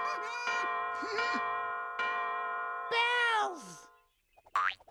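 Bell sound effects in a toddler's learning cartoon: several ringing, sustained metallic tones struck one after another, each decaying with a bending pitch, followed by short playful boing-like blips.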